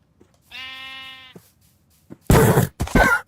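Horses being slaughtered in a hardcore crafting video game give a sustained bleating whinny cry, then a short pause and two loud, harsh bursts of game sound effects close up, with no talking.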